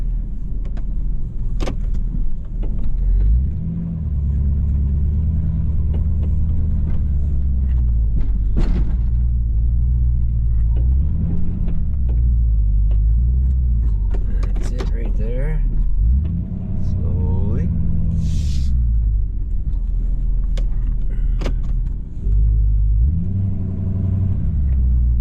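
A plow truck works through snow with a deep, close engine rumble that rises and falls as it moves and revs, with occasional clunks and creaks from the cab.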